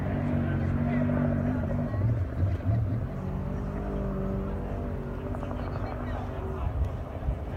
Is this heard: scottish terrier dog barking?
no